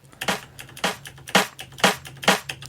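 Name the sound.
single snare drum sample in Ableton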